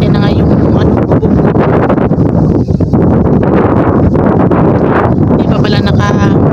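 Very strong typhoon wind gusts across floodwater on a farm, a loud, relentless roaring rush buffeting the microphone, with faint watery sloshing mixed in throughout.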